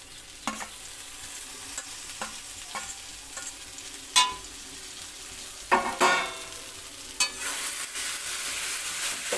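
Chopped tomato and green chili sauté with a hilsa fish head in hot oil, giving a steady close sizzle broken by several sharp stirring scrapes and clinks of a spatula against the pan.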